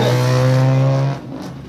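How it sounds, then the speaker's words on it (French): A BMW Compact rally car at the Rallye des Ardennes holds a loud, close, steady engine drone that cuts off sharply, leaving a quieter fading rumble. "Jonathan qui était au volant de cette BMW Compact."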